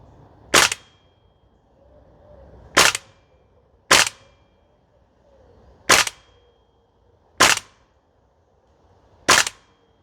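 Toxicant XM5 Sig Spear gas blowback airsoft rifle firing six sharp, well-spaced single shots at irregular intervals, each a loud crisp crack with a quiet pause between.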